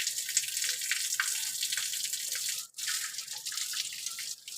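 Running and dripping water with light splashing while someone is being bathed, a steady close hiss with brief breaks and no talking.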